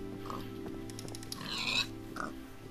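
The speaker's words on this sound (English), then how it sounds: "I'm gonna go kill some pigs for food." Pigs oinking in the Minecraft video game, a few short grunts over a steady background music drone, fairly faint, with no talking.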